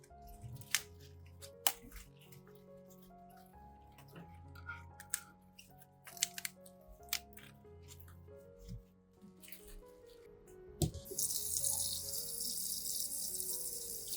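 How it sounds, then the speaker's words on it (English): Water begins running from a cold tap and splashes steadily into a sink as lettuce is rinsed, after scattered soft clicks and handling noises, fairly quiet overall. "Rinse thoroughly under cold water, gently rotating to clean all crevices between the leaves."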